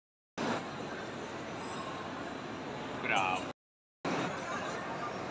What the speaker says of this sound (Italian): Treno regionale.